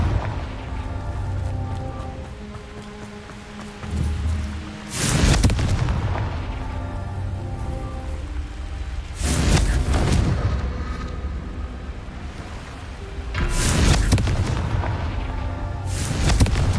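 Confringo fire spells in Hogwarts Legacy go off as three deep, booming blasts spaced several seconds apart, each with a crackling roar, over a constant low game ambience.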